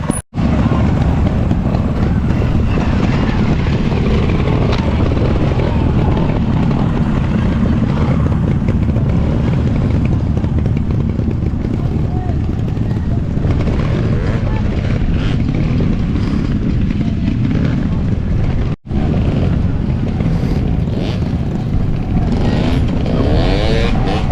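A trials motorcycle engine drones and revs continuously through a lap of a club trials event, loud and close, with brief throttle swells and one abrupt cut near the end.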